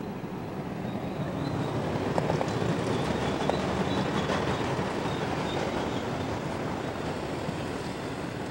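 Norfolk Southern freight train rolling past on an uphill grade toward Horseshoe Curve near Lilly, Pennsylvania, at dawn in February: a loud, steady rumble of cars and wheels with faint squeals and clanks, continuous and close.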